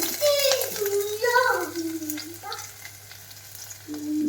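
Oil crackles and sizzles close by as mustard seeds pop in a hot pan for tempering, with a voice talking faintly over the steady frying hiss.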